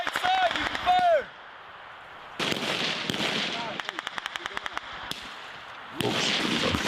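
Gunfire from a shooter video game on PS5, with bursts of rapid shots and clattering volleys between quieter stretches and game voices, ending in a louder burst.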